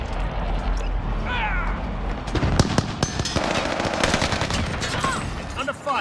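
Rapid automatic gunfire and sharp rifle shots crackle loudly in a Warzone match, dense bursts layered with mechanical clatter, while voices speak over the shooting.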